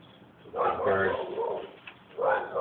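A pigeon or dove coos outdoors in bursts of low, rounded calls, fairly close and moderately loud, with no speech heard.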